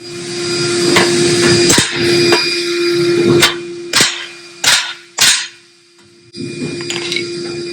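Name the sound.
hammering to dent an exhaust header for clearance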